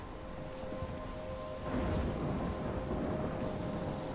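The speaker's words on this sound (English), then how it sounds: "I'm trapped in a storm?" A thunderstorm with steady heavy rain in the video game Life is Strange, with a continuous close downpour and a deep thunder rumble swelling about midway and rolling on to the end, alone without voices.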